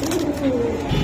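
Pigeons at a pigeon market, among giribaz and sirazi breeds, give a low cooing murmur for about a second. A faint tonal warble holds steady against soft background bustle.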